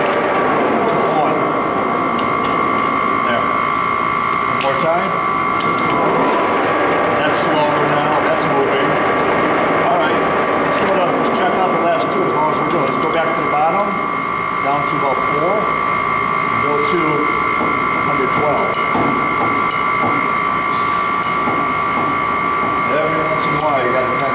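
A Ryazan Stanko 16K40 heavy duty engine lathe, 36 by 120 inches, runs at about 500 to 600 RPM with a steady mechanical whine and hum while a person talks over it.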